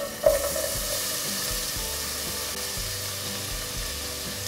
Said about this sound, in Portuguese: Vou esperar aquecer um pouquinho para colocar a cebola. Vou colocar a cebola,